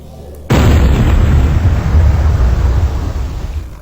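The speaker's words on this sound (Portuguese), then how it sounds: "o som da bala de canhão disparada" Cannon firing in a physics simulation of a cannonball launched horizontally: one sudden loud boom that holds as a broad, rumbling roar, slowly fading, with no talk.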